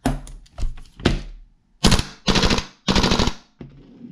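An Xcore Tech 301 blaster fires in full-auto bursts. Rapid clattering shots come close and loud, first as short scattered pops and then as several dense sustained volleys separated by brief pauses.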